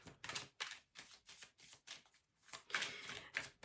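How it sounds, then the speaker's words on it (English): Tarot cards shuffled by hand in a run of quick papery riffles and rustles, close and fairly quiet, with short pauses between bursts and no talking. "you shuffle your cards"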